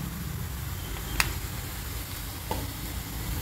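Hot oil sizzles in a steady, close hiss as asafoetida is added for baingan bharta, with a couple of faint clinks of a spoon against the pan.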